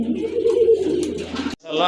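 A pair of pigeons being shown for sale coo close by, a low throaty burbling call that is cut off abruptly near the end, followed by a brief stir of background noise.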